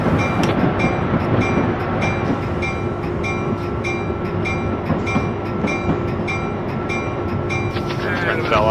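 A simulated train in Train Simulator 2014 rolls out of a station as it starts braking, with a steady rumble of wheels and rhythmic clicks on the rails and a faint squeal of brakes near the end.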